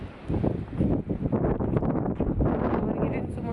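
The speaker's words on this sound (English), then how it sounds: "this is it's patchy, but it is very windy" Strong wind during a 2018 blizzard in Galway, Ireland, buffeting the microphone with a loud, continuous low roar and gusty rustling, with no voices heard.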